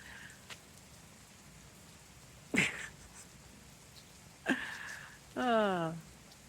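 Rain falls outdoors as a soft, steady patter throughout, broken by a few brief, sharper noises close by.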